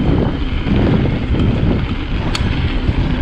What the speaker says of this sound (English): if you can hear me with the wind